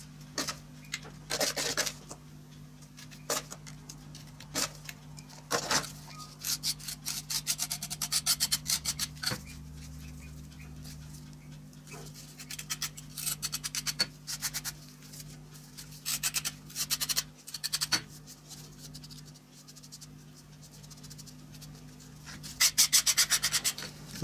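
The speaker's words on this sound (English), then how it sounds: "So that sort of gets the bulk of the sand into the core box" Foundry sand is scraped and pressed into a 3D printed core box in repeated gritty rubbing and rasping bursts, close and fairly quiet over a steady low hum, with no talking.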